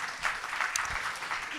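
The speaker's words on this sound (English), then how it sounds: "big first applause for Sveta" At a Startup Grind event in Barcelona, a startup audience applauds for Svetlana Velikanova with a brief, fairly quiet burst of clapping and faint background murmur.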